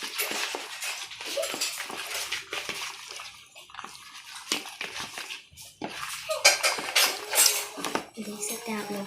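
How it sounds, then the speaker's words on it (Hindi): Biscuit dough and ghee are mixed by hand in a bowl, making close, continuous scraping and squelching with irregular clinks and brief louder bursts, and no clear speech over it. "अच्छी तरीके से इसको मिक्स कर लेना है।"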